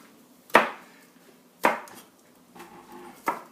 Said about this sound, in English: There are 2 scallions right here, and I'm cutting them.